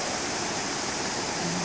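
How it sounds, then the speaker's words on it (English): A creek running high and fast after a rainstorm near Sedona, its water muddy red from the local red rock dirt, gives off a steady, dense rushing roar that fills the whole clip without pause or voices. "you can hear the sound of the river behind me"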